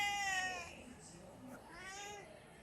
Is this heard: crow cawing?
no